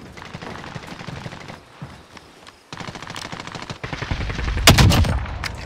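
Rapid automatic gunfire from the video game Call of Duty Modern Warfare, bursts of shots rattling through much of the stretch and swelling into a loud, dense volley near the end.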